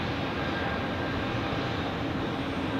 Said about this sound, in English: And here we have another A220